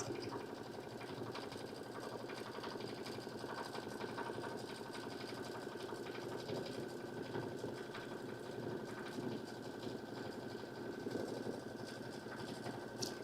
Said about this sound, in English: the very next step is the straight stitch to sew down the scallops